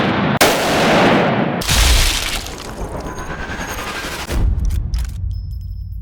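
Loud sniper rifle shot into a gelatin femur target, played in slow motion, heard as a sharp crack followed by drawn-out booming, smeared blasts and a lingering rumble that fades toward the end.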